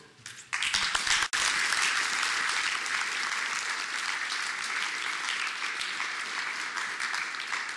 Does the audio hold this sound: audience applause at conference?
yes